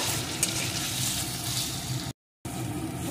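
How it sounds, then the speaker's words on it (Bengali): A mashed cauliflower mixture being stirred in a pan, heard as a steady close sizzle and hiss with soft scraping that runs on evenly, then drops out briefly before starting again. "সব কিছুর সাথে এটাকেও একটু নাড়িয়ে নেব"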